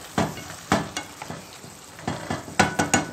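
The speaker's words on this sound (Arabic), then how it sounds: "انا بقلب فيها اهو." Liver and onions frying in a pan, stirred steadily so that repeated scraping strokes of the utensil fall in an uneven rhythm over a soft sizzle, heard up close with no one talking.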